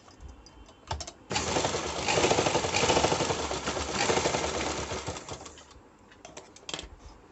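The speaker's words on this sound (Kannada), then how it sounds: "ನೋಡಿ, ಇವಾಗ ಕರೆಕ್ಟಾಗಿ ಸ್ಟಿಚ್ ಬರ್ತಾಯಿದೆ" A sewing machine stitches a blouse lining in one sustained run of rapid mechanical clatter lasting a few seconds, with softer ticks and handling before and after.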